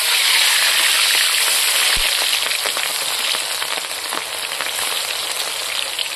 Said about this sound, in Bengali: এখন আমি দেখো তেজপাতা, কাঁচা লঙ্কা, পেঁয়াজ, রসুন আমি একসাথে দেবো।